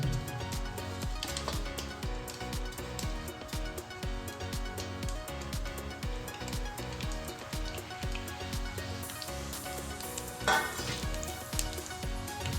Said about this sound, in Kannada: ಇವಾಗ ಇದು ಉದ್ದಿನಬೇಳೆ ಮತ್ತು ಕಡಲೆಬೇಳೆ ಎಲ್ಲ ಲೈಟ್ ಬ್ರೌನ್ ಆಗಿ ಕಲರ್ ಆಗಬೇಕು. ಅಲ್ಲಿ ತನಕ ನಾವು ಫ್ರೈ ಮಾಡಬೇಕು ಇದನ್ನು.